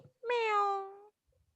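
A single cat meow, clear and close, about a second long with a falling pitch, then quiet.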